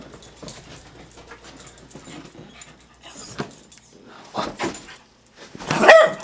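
Dog panting and moving around indoors, with quiet breathing and scuffling punctuated by a few louder bursts of movement near the end.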